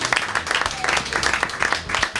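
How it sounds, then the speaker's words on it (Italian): Audience applause at the close of a Monday-night live show at Caffè 24, a dense steady patter of many hands clapping at moderate distance with a hum of crowd noise beneath. "Applauso, grazie."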